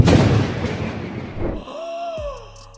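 Exclusive weapon firing in Fortnite: a heavy booming blast with a long rumbling tail, then a descending whine and a few lighter electronic shots as it fades out, loud and close.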